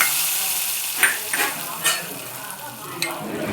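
Asafoetida powder being stirred into a lentil dal curry in a pan, a soft scraping spoon rhythm over a steady low sizzle with a few sharper clinks, close and alone.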